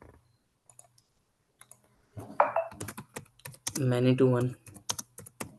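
Rapid clicks of a computer keyboard being typed on nearby, coming in bursts between stretches of a man's speech.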